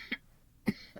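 Two short coughs close to the mic, about half a second apart, with a faint third catch at the end, heard in an otherwise quiet room.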